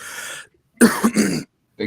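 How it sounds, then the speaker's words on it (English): A single big cough bursts out loud and close in two harsh hacks, followed by a short throaty restart, with brief talk before it. "big cough."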